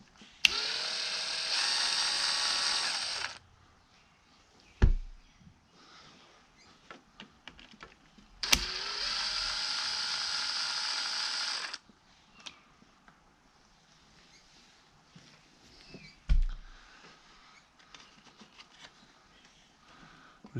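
A small electric screwdriver whirs twice for a few seconds each as it backs tiny screws out of wire clips on a Minn Kota 36V trolling motor, with faint clicks and taps of parts in between.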